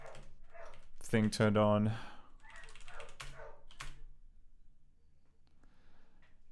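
A puppy in the Director 5 computer game Smarty, run in ScummVM, gives a short burst of yelping barks, up close and clear, with a person talking around it.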